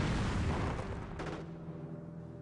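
A grenade detonating a mine in a strategy video game, producing a heavy, muffled boom that rolls off into a fading rumble over a couple of seconds, with a brief secondary burst partway through and no voices.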